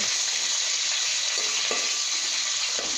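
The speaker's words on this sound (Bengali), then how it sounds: "আমি প্রথমে শুটকিগুলো ভেজে নিচ্ছি তেলে" Dried fish frying in hot oil, a steady close sizzle and crackle running throughout with a few brief stirring scrapes, no voices.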